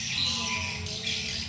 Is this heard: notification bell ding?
no